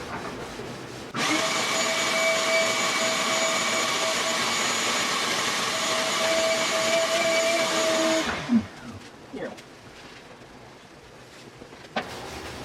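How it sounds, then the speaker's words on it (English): A loud, steady vacuum whine runs for several seconds, blowing dust around a workshop, then cuts off, leaving a quiet room with a few soft knocks and clicks. "Just blow dust all over the shop with a vacuum."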